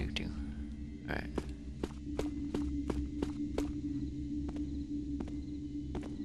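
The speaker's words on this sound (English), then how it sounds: "I love how he doesn't hear the other set of footsteps" Footsteps in Thief: Deadly Shadows, a series of sharp, evenly spaced treads over a low ambient hum, clearly audible and moderately close.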